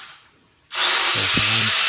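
A power drill starts abruptly and whines loudly as it bores into hard bathroom floor tile while a toilet is installed, steady and close.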